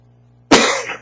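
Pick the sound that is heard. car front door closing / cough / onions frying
cough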